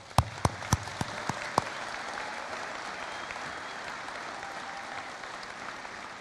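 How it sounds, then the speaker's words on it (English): A few sharp claps ring out at first, then steady, sustained applause from a large crowd at a graduation ceremony fills the space, fairly distant and even. "Let's give them a big round of applause"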